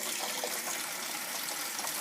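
Tap water runs steadily in a continuous gushing stream while dishes are washed, close and fairly quiet, with no voices.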